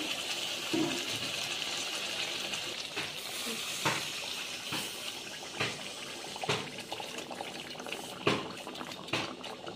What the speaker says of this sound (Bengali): মশলা ধোয়া জলটা আমি এবার দিয়ে দিচ্ছি